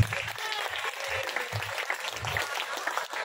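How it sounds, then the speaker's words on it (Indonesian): Applause for team A at an Islamic students' quiz contest, a short burst of clapping from a crowd heard close by, with some voices mixed in. "Beri aplaus untuk regu A."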